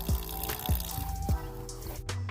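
Water trickling from a small dispenser spout mounted on the side of a DIY Prius car camper, heard close up as a few soft, uneven drips and gurgles with a brief splash near the end and no talk.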